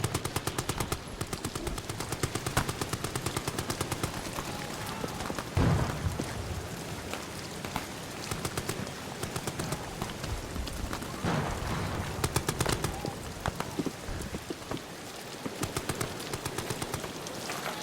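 Rapid bursts of gunfire from the video game Amnesia: The Bunker, sharp repeated shots in quick clusters spread across the stretch amid a dense, noisy game soundscape.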